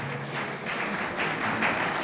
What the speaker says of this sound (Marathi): एकदा जोरदार टाळ्या झाला पाहिजे आपल्या गुरुजनांसाठी